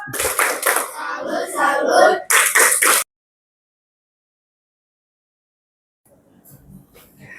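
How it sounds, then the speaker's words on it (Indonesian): A classroom of year-8 pupils performs a rhythmic clapping chant, quick bursts of hand claps mixed with voices for about three seconds, then near silence followed by faint background noise. "Tepuk salut"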